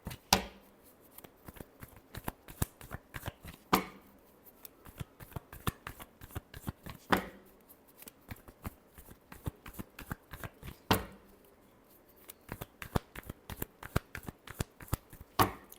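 Tarot cards shuffled by hand in repeated riffling bursts, each ending in a sharp snap, with brief pauses between bursts; close and clear, no talking.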